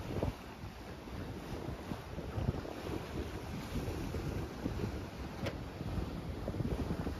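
A sailboat under sail toward the end of a trip off Puerto Rico and the Spanish Virgin Islands, with steady wind buffeting and rushing water along the hull, moderately quiet and unbroken.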